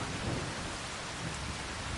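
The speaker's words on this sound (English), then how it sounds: "as it's raining" Steady heavy rain with rolling thunder in Farming Simulator 25, a dense, loud, constant hiss of downpour over a low rumbling undertone that never lets up.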